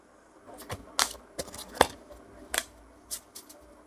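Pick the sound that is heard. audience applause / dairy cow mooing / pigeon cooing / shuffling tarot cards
shuffling tarot cards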